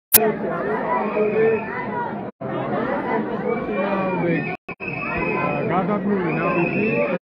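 Protesters inside parliament chant and shout slogans against the Russian law, a dense crowd of raised voices close by, broken by a few brief cut-outs.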